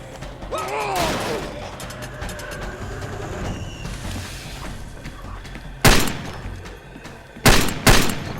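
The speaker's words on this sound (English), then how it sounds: "What are you shooting at?" Gunfire in the video game Far Cry 2, with scattered shots and short bursts at mid-distance followed by a few loud, sharp close shots near the end, alongside faint game ambience.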